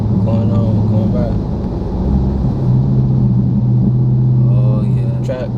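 Dodge Charger Scat Pack in track mode, its engine giving a deep, steady interior rumble that swells as the car accelerates, while someone talks over it.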